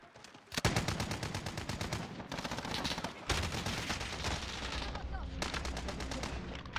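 Dense rapid gunfire rattles in continuous bursts as the player is hit in a shooter video game, loud and close with brief pauses between volleys.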